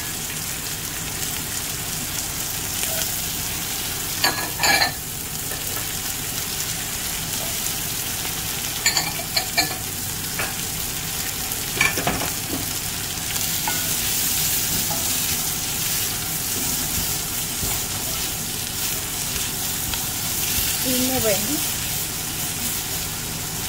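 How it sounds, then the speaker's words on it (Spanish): Chiles fry in butter in a cooking pot, a dense continuous sizzle like steady rain, close and loud, with occasional clinks and scrapes of a utensil and a brief quiet voice partway through. "Dejamos que se guise un poquito con la mantequilla que le pusimos."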